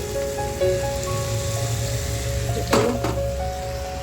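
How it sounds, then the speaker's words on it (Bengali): Cauliflower pakoras fry in hot oil with a dense, steady crackling sizzle close by, broken by a couple of sharper clatters near the end. "ভালো করে ভেজে নেবো। এখন উঠিয়ে দিলাম, ফুলকপির পকোড়া হয়ে গেল"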